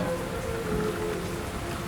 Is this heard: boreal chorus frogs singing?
no